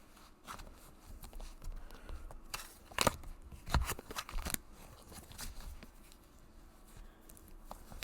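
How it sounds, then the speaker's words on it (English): Tarot cards being shuffled by hand: a steady papery riffling and crackle with sharper snaps around the middle, close and fairly quiet, with no voices. "let's start with the shuffling"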